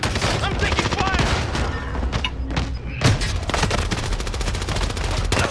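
Loud, rapid video game gunfire rattles almost without pause in automatic bursts, with a few heavier thuds and a brief lull in the middle of the firefight.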